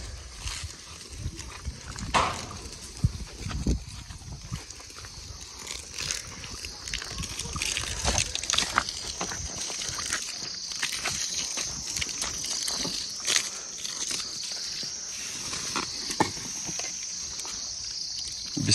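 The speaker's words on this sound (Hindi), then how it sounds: "जो उस साइड ब्रिक्स है, अब हम उनको भी पानी डालेंगे।" Water poured and splashed over a stack of bricks outdoors to keep them wet before house construction, a steady rushing and sloshing hiss that continues throughout, with people talking over it.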